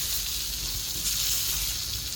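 Tomatoes fry in a hot pan with a steady, close sizzle that holds even throughout the short stretch, with no talk over it.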